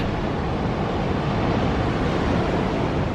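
Big winter ocean waves crash and surge continuously at Gray Whale Cove on the California coast, a dense, steady roar of surf with some wind noise on the microphone.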